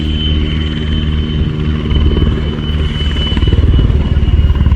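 A Czech PZL Sokol helicopter, one in red and white emergency medical configuration, flies at the RIAT air show, its steady close engine whine and rhythmic rotor thump loud and continuous, growing slightly heavier toward the end.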